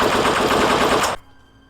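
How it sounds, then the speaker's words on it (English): A loud, rapid burst of automatic gunfire rattles for about a second, then cuts off abruptly into quiet. "Suddenly, from the opposite side of the stage, gunfire erupted."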